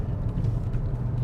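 A 2021 Volkswagen Golf 1.5 e-TSI with 150 horsepower accelerates hard, giving a brief low, steady engine rumble heard from inside the cabin.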